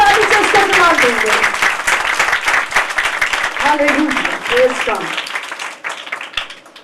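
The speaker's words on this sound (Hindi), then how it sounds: "आइए यीशु मसीह के लिए भरपूर ताली बजाएंगे, जोरदार ताली से उसका जवाब देंगे" Church congregation claps loudly and continuously in praise, with a voice calling out over the clapping before it gradually thins out.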